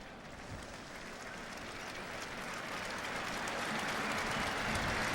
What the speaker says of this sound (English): And a round of applause from the Michigan fans